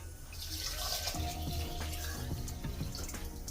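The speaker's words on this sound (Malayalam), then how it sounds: "അപ്പോൾ ഒരു 500 ഗ്രാം വെള്ളം ഒഴിക്കുകയാണ്." Water pours steadily into a pot of rice for pulao, a continuous close splashing stream that runs the whole time with small gurgles and drips, no voices.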